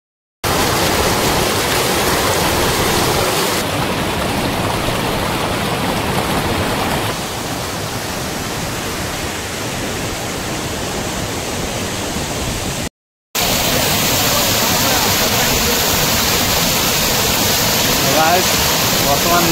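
Steady broadband rush of flowing water surrounding the spot on all sides, loud and close, continuous with a short break and a shift in tone partway through.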